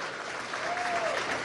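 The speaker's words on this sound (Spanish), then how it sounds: "Un aplauso para estas jefas maravillosas." Audience clapping steadily at a public education event with a presidential appearance in Venezuela, a dense, even wash of applause from a crowd with a faint tone drifting across it.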